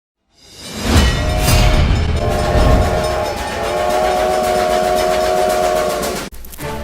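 Train sound effect for the Rocky Railway: a loud rumbling train with rail clatter and a sustained steam-style whistle running through most of the clip, cutting off abruptly near the end.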